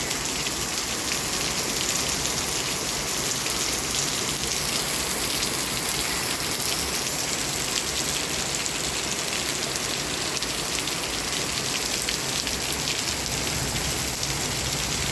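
Heavy rain pours down in a steady, dense hiss of drops hitting surfaces, loud and unbroken from start to finish, with no voices heard.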